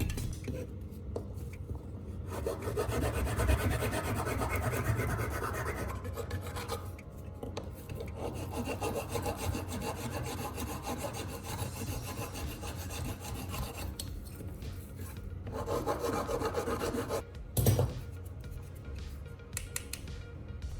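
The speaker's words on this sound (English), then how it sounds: "Now grab a metal file or some fine sandpaper and start smoothing the edges." Metal file or fine sandpaper rasping across the repaired edges of a plastic part, a steady scraping run of strokes heard close and alone, with a few brief pauses between passes.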